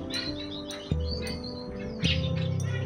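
Gouldian finches chirp in an aviary, giving short, high, bright calls in scattered bursts, near and clear, over a low steady background hum.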